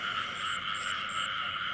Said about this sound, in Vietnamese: Ếch quá trời kêu à.